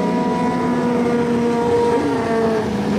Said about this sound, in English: Oh no, Lexi Underwood looks like she's blowing an engine up.